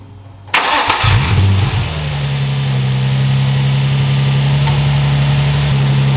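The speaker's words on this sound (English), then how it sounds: "The car is now back together. It started up just fine." A Nissan 350Z with the VQ35 V6 cranks and fires up close by after a camshaft position sensor replacement, revs briefly, then settles into a steady, loud idle.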